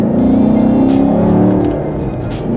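Chevrolet Camaro V8 revving hard under acceleration after a paddle shift with rev matching, a loud close rumbling engine note climbing in pitch then easing off.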